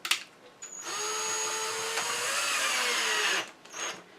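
A power driver whines loudly for about three seconds as a number 12 panhead screw is driven into green box elder wood without a pilot hole, preceded by a short burst and followed by a brief final spin.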